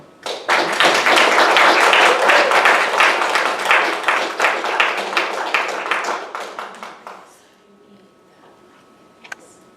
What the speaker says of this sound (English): let us give these beloveds a warm round of applause and welcome them up to share their wisdom.